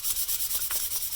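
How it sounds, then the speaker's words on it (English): Quick back-and-forth rubbing of 600 grit sandpaper on a steel axe head, about ten rapid rhythmic strokes, close and fairly quiet. "Just going through some sandpaper here."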